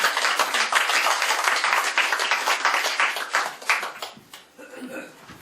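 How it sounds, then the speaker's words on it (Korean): An audience in a lecture hall claps to welcome a speaker, dense close applause that thins into a few last claps, with light chuckling near the end. "박수 한번 주시죠"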